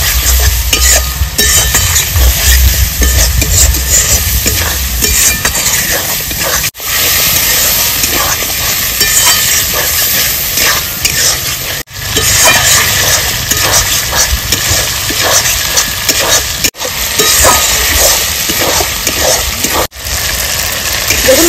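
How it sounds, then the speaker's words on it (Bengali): Spice paste with ginger, salt and turmeric fries in oil for a desi rooster curry, giving a continuous loud sizzle with rhythmic scraping stirs and a few brief pauses, with no talking. "এবার সুন্দর করে মশলাটা আমি কষিয়ে নেব।"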